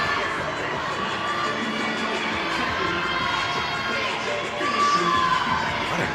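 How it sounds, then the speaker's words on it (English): Large crowd cheering and shouting at a college gymnastics meet, Michigan at Michigan State, a steady loud roar of voices filling the arena throughout, swelling slightly near the end. "What a crowd."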